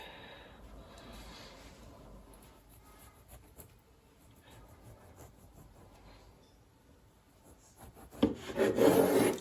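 A serrated knife saws through a garnished festive bread loaf for a Christmas Eve spread, with quiet, steady rasping strokes that grow louder and harsher in the last second.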